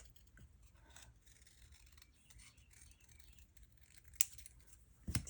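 Scissors snip paper by hand for a tackle box craft, faint close rasping cuts under quiet room noise, with a couple of sharper snips near the end.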